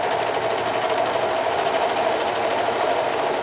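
A serger runs continuously, stitching gathered fabric for a sleeve. Its fast, even mechanical whir stays close and loud throughout, with no pauses and no talk.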